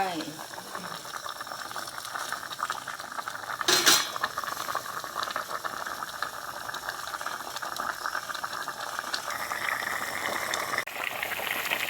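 A pot of Thai sour fish soup with snakehead fish bubbles at a steady rolling boil, a continuous close hiss and gurgle with a brief clink of utensils near the start.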